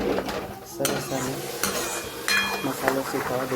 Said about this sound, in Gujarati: મસાલો શેકાવા દઈએ.